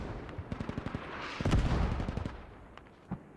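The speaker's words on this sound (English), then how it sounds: "Requesting mortar fire on territory." Rapid cracks of gunfire, then a heavy rumbling blast of mortar fire in the military shooter game Squad, with scattered shots trailing off afterward.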